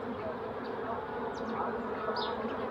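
Honey bees crawl over a beehive frame of capped honey and pollen during a mid-August apiary inspection, giving a dense, steady close-up buzz that holds at an even level throughout with no voices.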